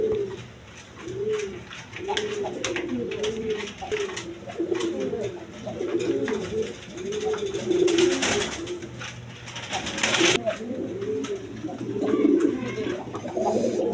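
Rasgolla pigeons coo steadily and close by, giving a string of rolling, overlapping coos at a fairly even rhythm throughout.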